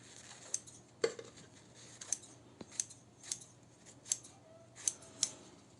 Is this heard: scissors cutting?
yes